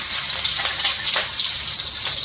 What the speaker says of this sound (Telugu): ఫ్రై చేయడానికి కొంచెం ఆయిల్ వేసుకోవాలి